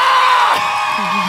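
A live concert crowd at Mina Museum cheers and whoops loudly for the singer, a continuous roar of voices with a shouted call sliding down partway through.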